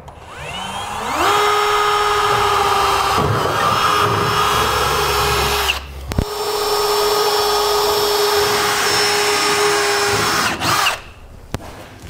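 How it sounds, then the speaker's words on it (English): A power drill bores pilot holes for safety chain loops through the corrugated steel bed of a 2016 Chevrolet Silverado 2500, a steady loud whine running in two long bursts with a brief stop between them. "take a drill bit to drill a pilot hole through our inner safety chain loops here"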